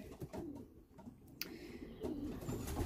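Young pigeons in an aviary give soft, close coos and a few brief calls over quiet background rustling, with no talking.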